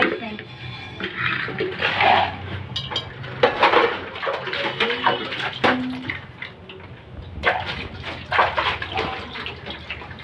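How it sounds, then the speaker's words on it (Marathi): Dishes, pots and pans being washed by hand in a home kitchen, with running water, clinks and scrubbing scrapes going on steadily and close, while voices talk now and then. "चला तर भांडे घासून घेतलेले आहे आता मी."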